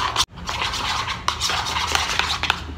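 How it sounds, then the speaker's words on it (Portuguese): A slime mixture with shaving foam is stirred in a bowl, producing close, continuous wet scraping and squelching strokes with a few sharper clicks of the utensil, no voices. "Mexe até ficar um pouquinho homogêneo"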